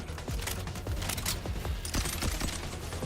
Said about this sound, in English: it's the missile launcher here